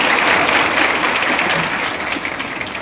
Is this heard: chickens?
no